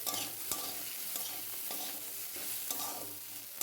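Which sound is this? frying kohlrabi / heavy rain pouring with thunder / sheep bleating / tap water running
frying kohlrabi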